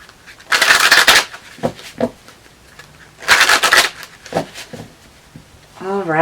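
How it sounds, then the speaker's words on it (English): Tarot cards shuffled by hand in two loud riffling bursts with softer taps between, close up, with a voice talking briefly at the end. "Do a few more shuffles here."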